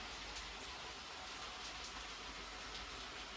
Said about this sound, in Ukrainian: У нас дощ сьогодні цілий день